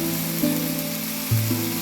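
Vegetables and potatoes, including stalks and eggplant, frying in a pan for a small-fish chochchori, giving a steady close sizzle with a low background hum and no talking.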